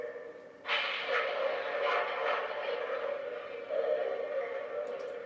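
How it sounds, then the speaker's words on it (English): A steady rumbling hiss of a train pulling in, with rolling mechanical noise and chuffing bursts sustained throughout. "Now arriving from New York on track 1, train number 68"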